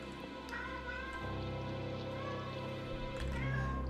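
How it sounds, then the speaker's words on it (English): A cat meows insistently several times indoors, its cries rising over a steady hum of game sound and room noise, close to the microphone. "Fucking cat, shut the fuck up."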